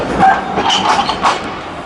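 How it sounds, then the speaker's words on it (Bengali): An old-model tram rolls past on a street in the Netherlands, its wheels clattering loudly and close with a rumbling, rhythmic clack that fades slightly as it goes by. "এটি পুরানো একটি ট্রাম, পুরানো মডেলের, এখনকার মতো আধুনিক নয়।"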